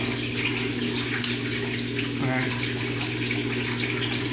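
Brastemp washing machine draining water from its tub, a steady broadband rush of flowing water with a low mechanical hum underneath, continuous and fairly close throughout.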